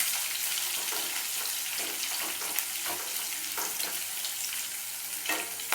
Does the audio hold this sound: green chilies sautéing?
yes